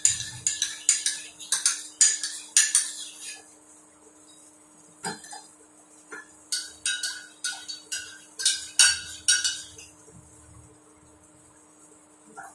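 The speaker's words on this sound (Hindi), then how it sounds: "अब जो ये लेमन और हनी है इसको थोड़ा सा मिक्स कर लिया।" A spoon clinks repeatedly against a cup while stirring lemon and honey into very hot tea, in quick bursts of light metallic taps with short pauses between them, close and fairly loud, with no talking.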